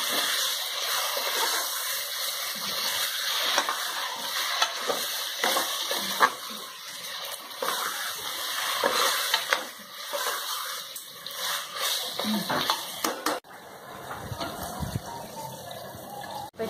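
Mutton being stirred and frying in masala paste in a pan, a continuous close hiss and wet sizzle with irregular scraping and splattering, no talk.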